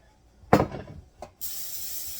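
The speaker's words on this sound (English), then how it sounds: "So I'm going to spray both of my bread pans." A short clattering knock, a brief click, then a steady hiss of an aerosol cooking spray coating glass bread pans runs close by until the end.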